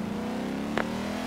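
A Volvo S60 Polestar built around two V8s joined together, heard in the Forza Horizon 2 racing game, holds a steady, loud droning engine note with a brief sharp transient midway.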